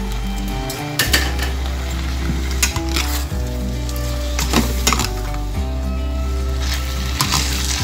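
Fried cauliflower being tossed and stirred in a hot pan for gobi manchurian, a loud steady sizzle broken by repeated scraping and knocks of a spoon against the pan.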